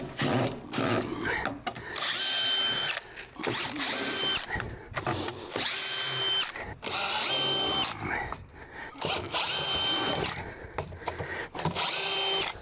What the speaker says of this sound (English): We'll take as many screws out as we can.